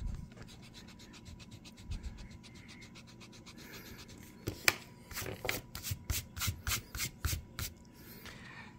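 An eraser rubs dirt off a record album jacket, giving a soft steady scrubbing at first, then a run of louder, distinct rhythmic scrapes with faint knocks near the end.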